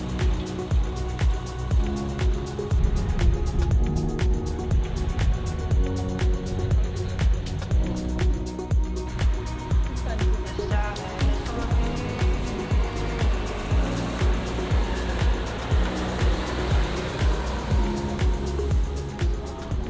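A 2019 Range Rover Evoque drives with a steady engine and road rumble and a regular thumping rhythm from the tyres, heard close inside the car, with no talking.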